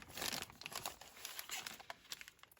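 Vellum paper journaling cards for a fairy junk journal, handled and shuffled with faint, close crinkling and rustling in quick irregular bursts.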